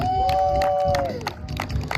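A crowd at a lumberjack and chainsaw competition cheers and shouts to vote for a contestant, a dense, loud roar of voices held steadily throughout, with a sustained whistle-like tone sliding downward partway through.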